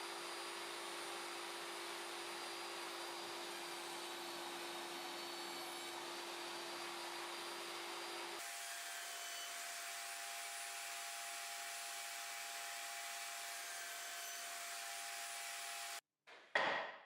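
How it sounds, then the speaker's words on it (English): A table saw fitted with a dado blade and sled cuts grooves in plywood for drawer dividers, a loud steady whine running continuously, shifting pitch midway, then cutting off abruptly at the end. "With a dado blade and the table saw sled, I'll make some grooves to install the drawer dividers."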